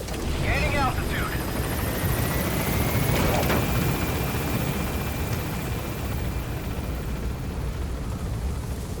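A helicopter lifts off from a landing zone in Metal Gear Solid V: The Phantom Pain, its rotor drone loud and steady and rising slightly in pitch, with radio chatter heard briefly near the start.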